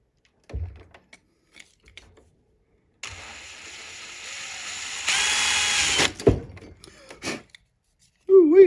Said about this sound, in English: I'm going to take my drill bit and I'm going to drill through it as gently as I can